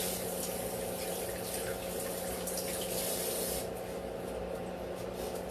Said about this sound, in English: Let me go rinse some of these little seeds off of this.